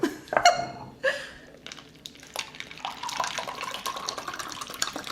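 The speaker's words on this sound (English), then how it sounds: "I'm filling this baby up for you, big time, Cloud." Pineapple raspberry agua fresca is poured into a glass, with a couple of clinks at the start followed by a rising liquid trickle and gurgle, close and moderate.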